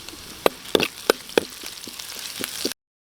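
Ginger and garlic sautéing for a beef innards guisado: a close, crackling sizzle with a run of sharp stirring clacks against the pan, then an abrupt cut to silence.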